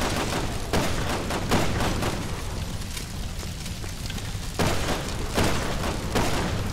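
Gunfire in Resident Evil 6 during Leon's campaign: bursts of rapid, heavy shots and booming reports, loud and dense, with a brief quieter lull midway before more firing resumes.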